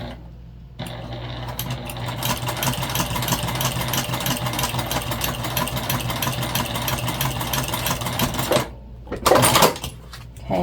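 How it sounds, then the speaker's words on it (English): Sewing machine basting elastic onto a backpack, running in one long steady whirring stretch at close range, then stopping, followed by brief handling noise. "So I'm just gonna baste this down."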